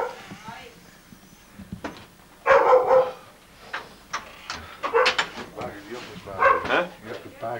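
A dog barks a few times in a home, short sharp bursts spread across the clip, mixed with people talking close by.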